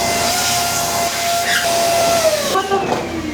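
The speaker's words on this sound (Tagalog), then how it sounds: "mag-vacuum muna ako" A vacuum cleaner running indoors in a campus room, a loud steady whooshing hiss with a faint whistling tone that shifts slightly in pitch as it moves.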